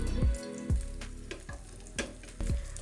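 Fish cakes frying in very hot oil in a pan, a steady close sizzle with a few louder crackling bursts recurring roughly every half second, no voices.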